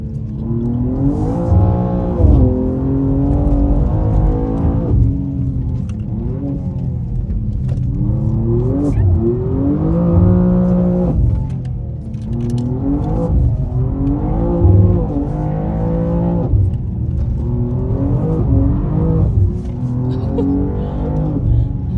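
A BMW M2 G87 engine rises and falls through repeated accelerations under steady loud load, with a long sustained drone suggesting the car being driven hard and slid at higher speeds; faint speech-like traces are possible but no clear talk.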